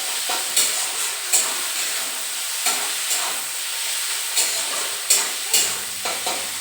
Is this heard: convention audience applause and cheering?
no